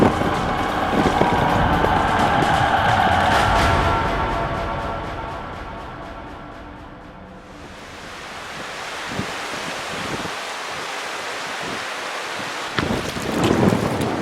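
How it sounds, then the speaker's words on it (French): A fierce thunderstorm in Siberia by the Lena River, with heavy rain, gusting wind and rumbling thunder, loud and continuous, easing midway before rain and wind build again. "c'est le pire des orages que j'ai vécu là, en Sibérie là, pour le moment"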